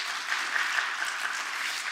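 A church congregation at a Wednesday service claps together, a steady, full-room patter of many hands that holds evenly for the whole stretch, with no voices over it.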